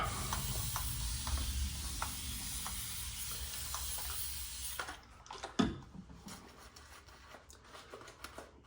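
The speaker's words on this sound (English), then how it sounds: "This might need a little bit more water here." Water is added to shaving soap while the lather is worked, giving a steady close hiss and fizz that drops away midway, followed by quieter wet brushing and a sharp knock.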